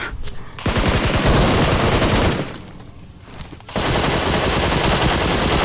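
Sustained automatic gunfire in the mobile battle-royale game PUBG Mobile, a loud continuous burst of rapid shots that drops away briefly to a quieter lull, then resumes as dense firing to the end.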